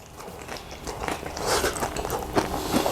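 Bites and chewing into a crispy air-fried saltfish (codfish) cake, a series of close, crunchy crackles that grow louder and more frequent as eating goes on, with no talk.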